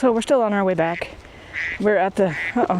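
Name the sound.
phone ringtone or alert that sounds like a duck quacking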